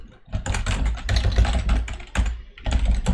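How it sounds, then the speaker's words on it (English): Fingers type quickly on a computer keyboard close to the microphone, a dense, continuous clatter of key presses with short pauses, over a low background hum. "Let's say I'm typing"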